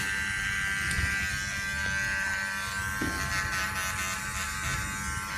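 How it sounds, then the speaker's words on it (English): A hair clipper with no guard buzzes steadily and fairly quietly at close range while it cuts short hair along the neckline. "this is the shortest that the clipper itself will go"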